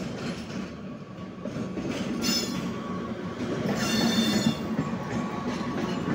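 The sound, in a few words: train arriving at station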